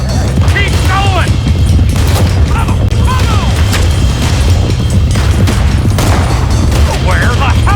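Rapid gunfire in Red Dead Redemption 2 during a story mission shootout, with loud continuous volleys of shots and booms throughout, under shouting voices and a dense, noisy game mix.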